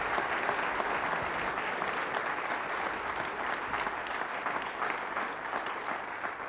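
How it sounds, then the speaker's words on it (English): A crowd at a junior snooker event applauds player Jonathan, steady mid-distance clapping that holds fairly even before easing off slightly toward the end, with no voices on top. "a big round of applause from our crowd here for Jonathan"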